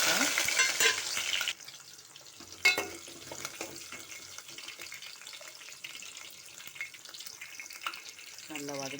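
Mustard seeds, chana dal, fenugreek and peeled shallots fry in oil for vatta kuzhambu, a loud crackling sizzle at first that settles into a softer fry with stirring scrapes and clinks, close by.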